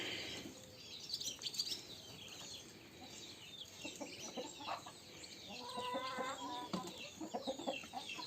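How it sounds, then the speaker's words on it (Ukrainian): Chickens cluck and chatter continuously around a farmyard, with a rooster's low clucks mixed among softer chirps and rustling. "Зараз півень спихне ту качку."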